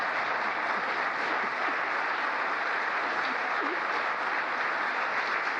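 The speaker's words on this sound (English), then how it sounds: "I think that's an applause line." Audience applause at a political speech, a steady dense wash of clapping from a large crowd that holds evenly throughout, with no voices rising above it.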